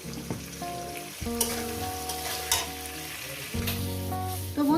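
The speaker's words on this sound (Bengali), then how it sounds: "আমি চার মিনিট ধরে পেঁয়াজটাকে আর আলুটাকে একসঙ্গে ভেজে নিয়েছি" Onions and potatoes frying together in a pan for a Bengali katla posto dish, a steady close sizzle throughout with stirring scrapes and a louder burst near the end, under faint music-like tones.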